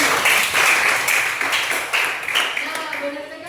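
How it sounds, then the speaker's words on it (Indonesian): Applause in a classroom for a fellow student, a burst of claps starting loud and thinning out over a few seconds, with a voice talking over the end. "Tepuk tangan dulu untuk kawan kita ini."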